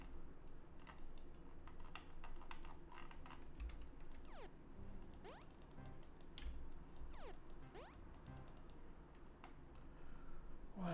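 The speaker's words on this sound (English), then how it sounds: "Let me try pressing other keys on my keyboard." Keys on a computer keyboard are pressed in a quiet, steady stream of light clicks, with a few louder taps and faint sweeping sounds from a game playing underneath.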